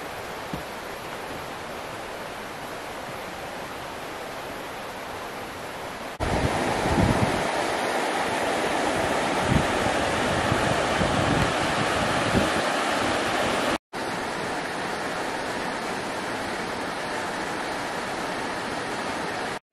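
A river in Nina Valley, Lake Sumner Forest Park, rushes steadily as a broad, even roar that grows louder partway through, with occasional footstep-like thumps and no talking.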